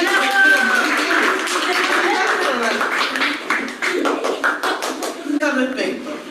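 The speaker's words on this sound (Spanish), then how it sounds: "Muy bien, un aplauso para sus compañeros." Classmates in a classroom break into applause, a dense run of handclaps lasting several seconds with voices mixed in, the clapping growing more scattered toward the end.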